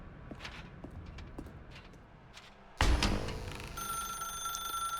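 A telephone rings in The Stanley Parable video game: after soft scattered footsteps, a sudden loud electronic ringing starts and holds steadily to the end.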